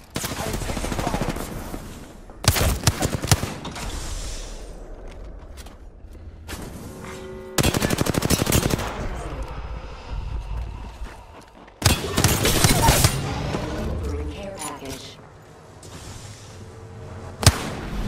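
Bursts of automatic gunfire in a battle royale video game, loud clustered volleys separated by quieter gaps, with a sharp final shot near the end.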